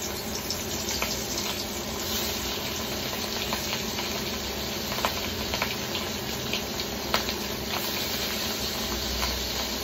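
Prawns fry in hot oil with a steady, dense sizzle that holds evenly throughout, broken by a few small pops and taps, heard up close with no talking.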